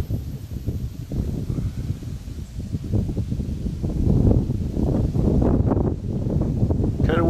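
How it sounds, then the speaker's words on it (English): Steady wind buffets the microphone outdoors at Beaver Dam Wash, Arizona, a low rumbling roar that gusts stronger partway through, with no talking. "Kind of windy today."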